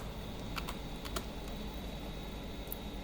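A handful of quick keystrokes tapped on a computer keyboard while playing Minecraft, sparse light clicks over a steady background hum.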